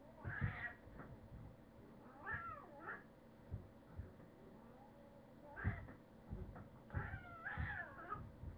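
A cat meows and caterwauls in drawn-out, rising yowls, several loud cries in bursts with pauses between, close by and with no talk over them.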